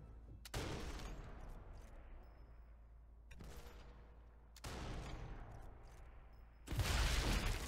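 Sniper rifle shots in Sniper Elite 4 ring out one at a time, four loud cracks spaced a second or two apart, each followed by a long echoing decay.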